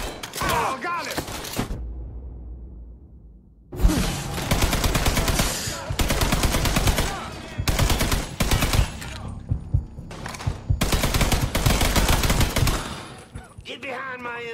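Bursts of automatic machine gun fire in the crime game Mafia III, loud and close, firing in repeated long stretches with brief pauses and a short silent gap early on, with shouting voices over the shooting.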